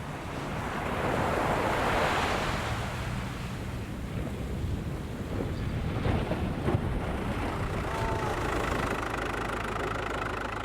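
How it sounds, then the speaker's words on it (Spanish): Heavy surf crashes along the Moroccan coast where small fishing boats risk capsizing, a continuous loud roar of breaking waves with wind buffeting the microphone and a faint engine hum beneath. "el fuerte oleaje amenaza con hacer volcar las pequeñas embarcaciones"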